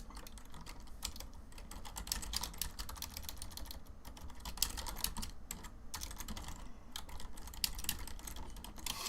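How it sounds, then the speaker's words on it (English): Rapid typing on a computer keyboard while someone hosts an online Tiny Whoop drone racing event: dense, steady clicking of keys throughout, close and alone with no talking. "I'm just typing."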